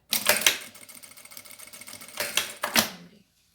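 A sewing machine stitching quilted matelassé fabric with lilac thread, running in two fast mechanical bursts with a softer steady whir between them, close and alone, then stopping.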